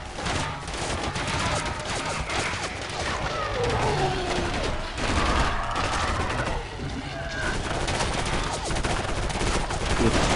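Rapid bursts of sniper-style gunfire from the video game Area 51, loud and dense, with game sound effects and voices mixed throughout.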